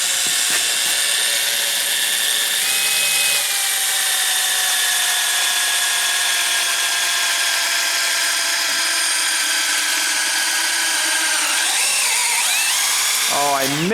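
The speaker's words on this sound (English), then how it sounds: "You went through that other side, Dave, like it was a drill press" A power drill whines steadily as it bores through an aircraft wing during a rebuild, one continuous high-pitched tone held for many seconds before it winds down and stops near the end.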